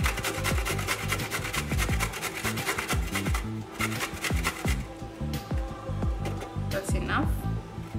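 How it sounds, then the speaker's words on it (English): Fresh ginger being grated for a vegetable soup, a rapid, continuous rasping scrape that runs steadily throughout at close range. "I'll start by grating some ginger."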